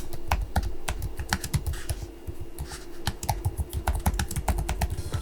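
Rapid, steady typing on the keyboard of an ASUS Zenbook S 13 OLED laptop, with close, crisp keystrokes clicking in a quick, slightly uneven rhythm throughout.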